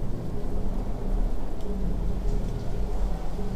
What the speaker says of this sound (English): unleashing a storm upon Troy